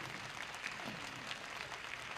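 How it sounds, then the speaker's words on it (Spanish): An audience at a 1981 stadium concert applauds with steady, dense clapping that carries on evenly throughout, a broad hiss of many hands without any clear voices. "Un aplauso."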